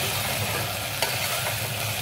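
Ginger garlic paste with coriander and mint leaves sautés in a pan for chicken biryani, giving a dense, steady sizzle with a soft stirring scrape partway through.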